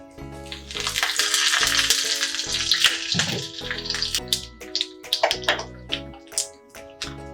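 Loud, steady sizzling of curry leaves dropped into hot oil with urad dal, crackling and spitting continuously with sharp pops toward the end.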